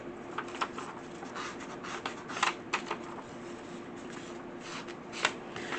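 Distress Oxide ink rubbed around the edges of a book page: a steady close-up run of soft, papery scuffs and brushing strokes with irregular louder swipes throughout, and no one talking.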